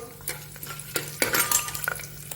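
Garlic dropped into a hot pan of oil with cloves, peppercorns, cumin and bay leaves, giving soft sizzling with a few scraping stirs and light utensil clinks, close and quiet.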